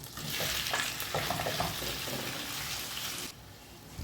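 Cut chicken breast pieces fry in oil with a little butter, a close, steady sizzle broken by stirring scrapes that dies down toward the end.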